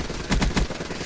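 Weapon fire in Black Ops 3, three quick, punchy shots in a short burst, loud and close against a steady background rumble.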